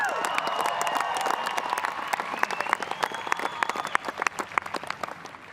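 A crowd applauds steadily after a women's State of Origin rugby league match between Queensland and New South Wales, with dense clapping and faint cheers continuing throughout.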